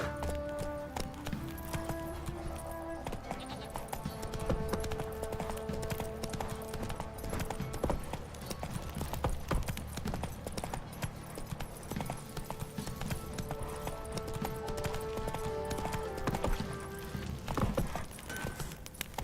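Steady clip-clop of galloping horse hooves in The Witcher 3: Wild Hunt runs throughout, loud and continuous under a layer of music, with no pauses.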